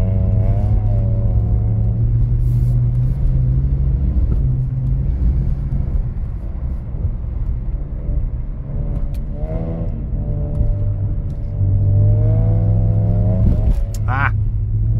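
A BMW drifts on winter snow, its engine droning low and loud with rising and falling revs as it slides, sustained throughout, with voices talking over the engine noise.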